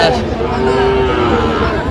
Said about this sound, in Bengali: শাহাবুর ভাইকে গরু দুটি দেখছেন